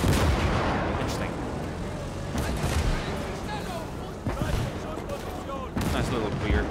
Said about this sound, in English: Nice little rear artillery support. We've got some nice explosions here.